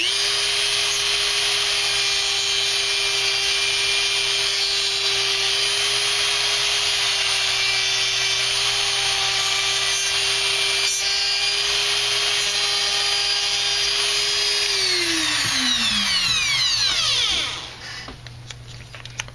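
A Dremel rotary tool grinding a Jeep Wrangler G6 Renegade Axial axle tube, a loud, steady high-pitched whine that holds for about fifteen seconds, then spins down and fades into a quieter hum at the end.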